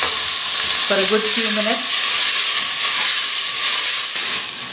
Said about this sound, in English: And just adding the onions. I'm going to brown the onions lightly